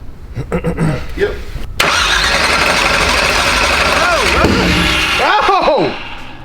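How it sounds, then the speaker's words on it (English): A supercharged burnout truck cranks a few times, then its engine catches and roars into a loud, steady, rough idle, close by, while people shout and talk over it. "God dang, she's firing, Bo."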